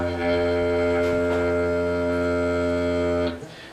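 A didgeridoo holds a steady, buzzing low drone rich in overtones, close and alone, with a slightly poppy edge like a small Volkswagen Beetle exhaust, before it breaks off near the end.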